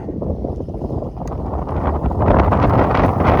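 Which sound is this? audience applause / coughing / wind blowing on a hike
wind blowing on a hike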